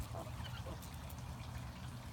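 A Sebastopol goose honks faintly, its calls half-buried in a steady wash of outdoor noise and low rumble, with no talking over it.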